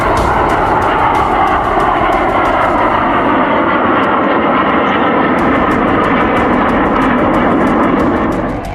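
Indian Air Force fighter jets such as Rafale, Mirage and Jaguar fly low over the Purvanchal Expressway, producing a loud, continuous roar that fills the whole stretch without letting up.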